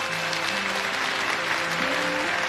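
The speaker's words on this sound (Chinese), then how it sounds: "赞同此理的鼓掌。" A studio audience claps together in a dense, even burst of applause that runs steadily for a couple of seconds before cutting off.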